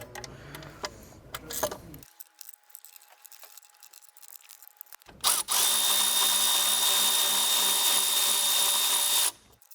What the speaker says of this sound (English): Now I'm going to start removing the 8 T30s.